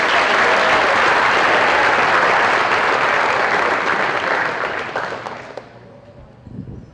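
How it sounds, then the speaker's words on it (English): A crowd at a football awards ceremony breaks into loud, dense applause lasting about five seconds, then tapers off into scattered claps. "Let's hear it for number 27, Aiden Thomas."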